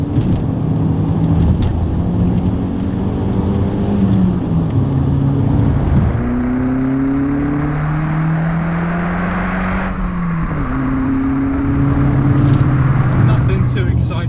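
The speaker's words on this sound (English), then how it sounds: "Second gear pull." A 150-brake-horsepower VW Golf MK4 accelerates hard in second gear, its engine note climbing steadily in pitch with a brief dip near the end, heard loud from inside the car over road and wind noise.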